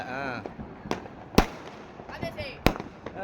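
Diwali firecrackers go off at night, several loud sharp bangs at irregular intervals, with distant crackling and people talking in the background between the bursts.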